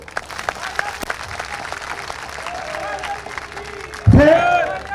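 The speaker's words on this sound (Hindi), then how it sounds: "अगर आप मेरी बात से सहमत हो ताली बजा दो" Crowd applause at an outdoor political rally, a scattered, moderate patter of clapping from a large gathering, followed by a sudden loud voice over a loudspeaker near the end.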